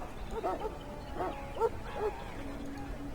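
Hounds barking in the background of a castle in the fantasy role-playing game Dragon Age: Origins: a few short barks and yips in separate bursts at moderate distance, over a low ambient bed.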